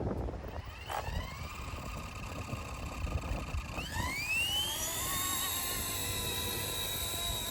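An RC Era C189 MD500 model helicopter takes off manually on a windy day, its electric rotor whine rising in pitch as it spools up and then holding steady and close, with wind noise underneath.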